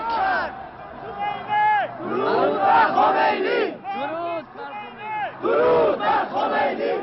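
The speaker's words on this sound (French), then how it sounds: "On appelle la foule autour de l'ambassade des États-Unis, on déguise un homme en marine et l'on crie sa haine à Carter et à l'Amérique" A large crowd outside the US embassy in Tehran chants loudly in rhythmic bursts, massed shouting against Carter and America swelling and dropping in waves.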